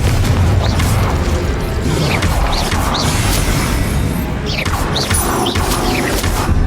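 Repeated blasting-spell explosions and crashes in the Hogwarts Legacy video game, a dense barrage of bursts and impacts over continuous rumbling battle noise.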